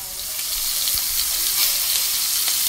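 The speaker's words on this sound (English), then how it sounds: "I'm going to let the shanks braise in some olive oil about 5 to 7 minutes" Beef shanks sizzling in hot olive oil, a loud, steady frying hiss that runs throughout with faint crackles.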